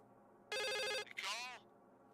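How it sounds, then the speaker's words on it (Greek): A telephone rings once in the horror video game The Suicide of Rachel Foster, a loud half-second electronic trill, followed by a brief voiced sound. "Χτυπάει το τηλέφωνο."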